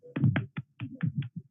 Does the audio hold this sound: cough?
no